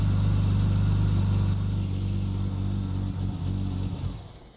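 A Triumph TR6 converted from carburettors to fuel injection runs with its exhaust pipes off, holding a loud, steady, close idle with a deep throb that fades away near the end.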